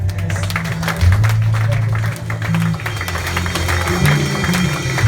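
A church congregation applauding the Lord during a worship service, sustained clapping with a crowd murmur beneath a low droning sustained tone, steady and moderately loud throughout.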